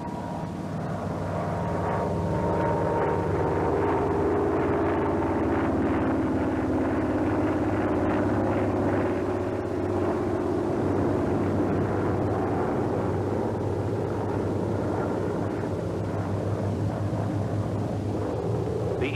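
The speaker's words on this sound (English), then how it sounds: "The Corsair is not restricted as to acrobatic maneuvers, such as the loop, which may be entered at a speed of about 210 knots." A Vought F4U Corsair fighter flies aerobatic maneuvers, heard as a loud, continuous propeller-engine drone that swells and eases slightly over a long stretch, with no voices.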